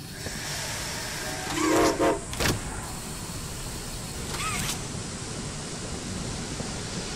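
A train pulling into a station in the video game Poppy Playtime Chapter 2: a steady, loud rumbling hiss runs throughout, broken by a short whistle-like tonal burst and a couple of sharp clanks near the start, with no voices.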